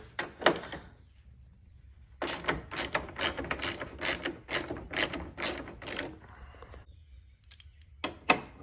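A 10mm ratchet turns out headlight bolts on an Acura TSX from the 2009–2014 model years, giving rapid clicking runs in two close bursts separated by short pauses.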